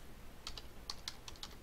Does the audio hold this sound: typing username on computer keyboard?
yes